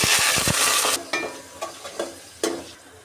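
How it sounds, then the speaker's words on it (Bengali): Whole spices hit hot oil for a vegetable khichuri with a loud, bright sizzle for about a second. The hiss then settles into a softer frying sound broken by a few utensil scrapes and clinks as the pan is stirred. "এখন আমি তেলের মধ্যে সব মশলাগুলো দিয়ে"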